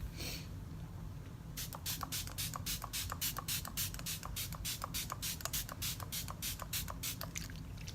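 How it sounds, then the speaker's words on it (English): Rapid, regular spritzes of a MAC Prep and Prime setting spray misting onto a face, a quick series of short hissing puffs close up after an initial longer mist. "now to set everything in place, I'm using the MAC Prep and Prime spray."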